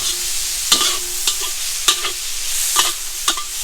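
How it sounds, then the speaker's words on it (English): Shrimp sizzle in a hot pan for char kuey teow, a constant close hiss of frying broken by about five sharp clanks and scrapes as the shrimp are flipped with a utensil. "Shrimp doesn't take long to cook at all, so we're just gonna flip them a few times"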